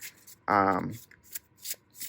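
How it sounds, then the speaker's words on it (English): A brand new tarot deck is shuffled by hand, giving crisp riffling card flicks and soft rubbing that come in short bursts, with a brief spoken voice cutting in between them. "it'll take some shuffling to get the cards just gliding through the hands"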